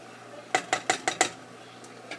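A spoon clinks against a pot as thickening enchilada sauce is stirred, about five quick metallic taps in a row, then a pause and a couple more faint clinks.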